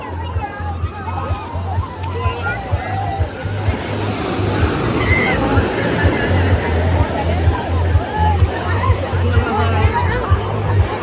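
Ocean surf rolls continuously onto Calangute beach in Goa, a steady wash of breaking waves with wind rumble, while people chatter nearby and children play along the shoreline.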